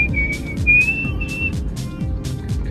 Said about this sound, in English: Why do you like to whistle so loud?